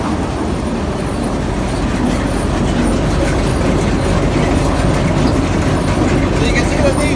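Shaker mechanisms on a Deutz Fahr 1600H combine harvester run with a loud, steady mechanical clatter and rattle that continues without a break from start to finish.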